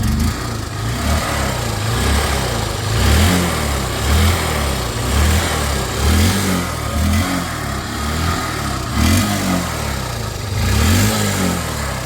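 A Honda Unicorn motorcycle engine is revved repeatedly at close range, the loud roar swelling and falling in several smooth bursts with no talk.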